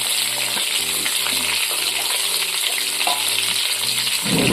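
Chicken pieces fry with turmeric in a pan, crackling loudly and steadily while a spatula stirs and scrapes in short, repeated strokes.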